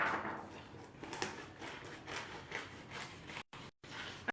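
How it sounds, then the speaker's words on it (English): Heavy-duty scissors snip repeatedly through material, giving a quiet series of close, crisp cuts in an irregular rhythm, with a couple of brief gaps of silence. "Now these are some like heavy duty scissors."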